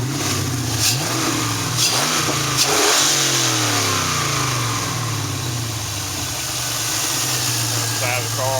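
An LS1 V8 in a Camaro being revved: a rumbling idle climbs into several sharp throttle blips early on, then settles back to a steady, close, loud idle with faint voices in the background.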